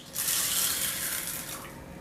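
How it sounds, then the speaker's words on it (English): Water poured into a bowl of channa dal for soaking, a steady splashing rush that swells quickly and then holds close and clear, with no voices. "I'm adding in some water"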